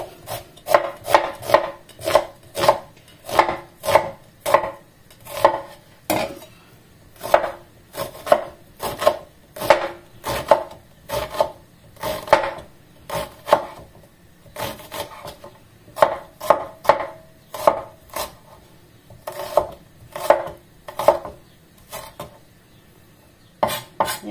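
Onions being chopped with a knife on a cutting board in a home kitchen: steady, sharp, close knocks in quick rhythmic runs with brief pauses, no talking.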